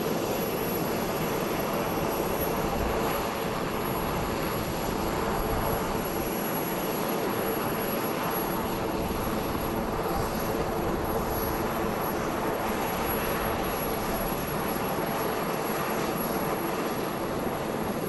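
A helicopter flying a passenger to a political rally gives a steady, loud engine and rotor roar that holds unbroken from start to finish, with no voices over it.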